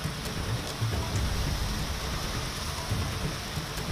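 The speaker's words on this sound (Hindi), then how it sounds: "नोएडा में भी बहुत देर तक झमाझम बारिश" Heavy monsoon rain pours steadily over Noida in the Delhi-NCR region, a dense, unbroken hiss of downpour with a low rumble underneath and no voices.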